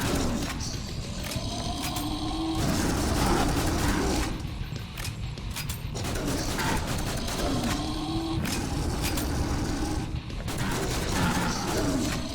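Rapid gunfire in the video game Killing Room, from dense repeated bursts to a loud, busy background of mechanical clatter, with short pauses between volleys.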